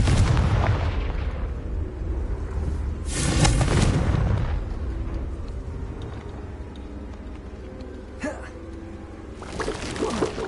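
A Confringo spell cast in the Hogwarts video game sets off fiery blasts, with broadband bursts near three seconds and again near the end over a steady rumbling game bed, and a brief crack just after eight seconds.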